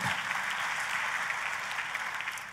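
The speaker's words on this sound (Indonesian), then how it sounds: "Tepuk tangannya pula yang paling meriah buat Tuhan kita" A church congregation applauding, a dense, lively wash of many hands clapping at once, loud and steady for the whole stretch before easing slightly at the end.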